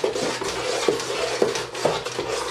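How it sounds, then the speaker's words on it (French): Green clay stirred into a homemade plant-based soap mixture makes a repeated scraping swirl, with soft regular strokes close by and no talk. "On mélange bien."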